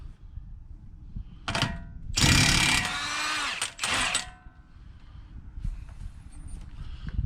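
A Milwaukee power tool rattles in a few loud, close bursts while working on a stubborn axle fastener on a 2012 Nissan Altima, the longest burst running about two seconds, followed by quieter clinks and shop noise.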